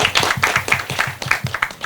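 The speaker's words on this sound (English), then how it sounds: "Let's give him a little round of applause." Brief clapping at a strategic plan launch event for a legal aid board chair, a handful of close, rhythmic individual claps in quick succession, fairly loud and near.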